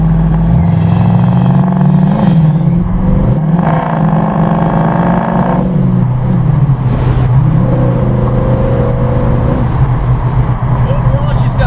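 Car engine fitted with an Edelbrock Thunder Series carburetor with annular flow boosters idles roughly, then revs and accelerates loudly and close, with some popping, as someone talks over the engine noise.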